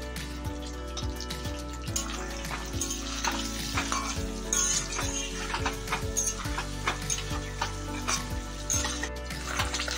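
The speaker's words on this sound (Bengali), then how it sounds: "তেল গরম হয়ে গেছে, এখন আমি ডিম ভেজে নিচ্ছি।" Duck eggs fry in hot oil seasoned with turmeric, Kashmiri chilli powder and salt, giving a steady close sizzle with frequent crackling pops and spatters throughout.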